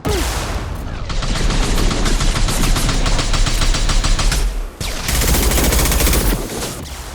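Sustained, loud gunfire from a firefight in the sci-fi shooter Mass Effect 2, with a dense, rapid stream of shots that breaks off for a moment and then starts again.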